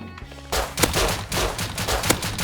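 Pistol fire in the Rust multiplayer video game: loud, close bursts of rapid shots in two main volleys, with a sharp crack at each report and no talking.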